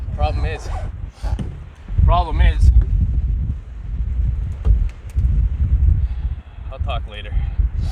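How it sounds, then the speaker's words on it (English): Strong wind buffets the microphone outdoors on a solo winter canoe trip, coming in heavy rumbling gusts between stretches of someone talking. "So windy here."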